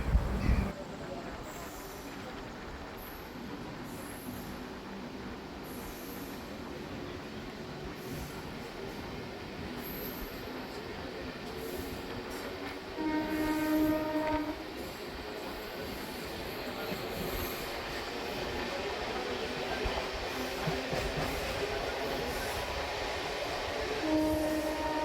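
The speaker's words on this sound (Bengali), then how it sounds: "দেখতে দেখতে আমাদের ট্রেন 1 মিনিট দাঁড়িয়ে বাকরাবাদ স্টেশন ছেড়ে দিল" A MEMU local train pulls out of Bakrabad station and picks up speed, a steady low rumble of wheels and carriage rattle with brief squeals and clicks, heard from inside, with faint voices around.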